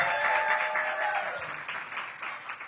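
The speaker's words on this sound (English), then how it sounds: "Let's give Morgan a big round of applause" A crowd at an outdoor school back-to-school night and ribbon cutting gives a round of applause, steady clapping from many hands that fades out gradually, alone without talk.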